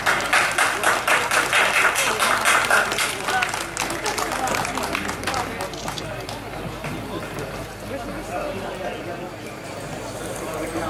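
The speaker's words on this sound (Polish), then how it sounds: "Brawa dla drużyny z Odrzechowej. Gorące brawa" Applause from the crowd at an antique fire-pump show and competition as a village fire brigade team steps up, a loud dense patter of clapping that thins after a few seconds, under an announcer's voice over a loudspeaker.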